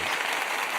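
A brief burst of applause sound effect, dense even clapping from a crowd, loud and close, lasting under a second.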